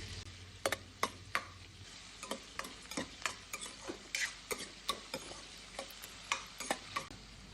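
Onion for dabeli filling fries quietly in a pan, a faint sizzle under a string of sharp, irregular spatula taps and scrapes against the pan, no voices.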